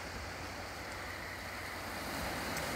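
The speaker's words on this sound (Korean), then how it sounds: "파도가 높네요 여기." Broad steady roar of high waves along the Ulleungdo island coast in rainy weather, constant and loud with no talking.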